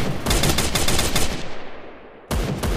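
In the Free Fire mobile game, a heavy machine gun fires loud, rapid continuous bursts that fill nearly the whole stretch, with one brief pause before firing resumes.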